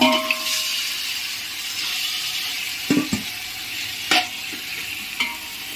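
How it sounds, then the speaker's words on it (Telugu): Marinated chicken and tomato fry in an open pan for biryani. A steady close sizzle hisses throughout, broken by a few brief scraping stirs. "దీన్ని కొంచెంసేపు మనం మూత పెట్టకుండానే వేయించిన తర్వాత తర్వాత మూత పెడదాం"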